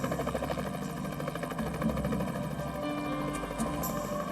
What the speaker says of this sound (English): And helicopters flew grid patterns overhead.